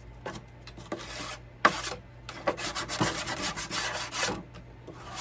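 Sanding the front door of a scratch-built dollhouse with a small sander and the edge of a sanding block gives close, quiet bursts of wooden rubbing and rasping, several short strokes in a row with brief pauses between them.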